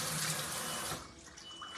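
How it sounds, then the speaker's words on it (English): Warm water runs from a tap into a basin as a steady broadband rush that thins and softens after about a second, close and fairly quiet with no talking. "So I'm just taking some warm water."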